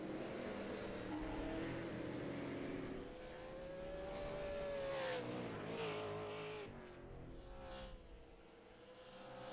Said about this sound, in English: As Andrew Payne takes his victory lap and gets ready to take a burnout across the finish line.